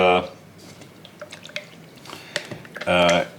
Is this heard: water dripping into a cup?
yes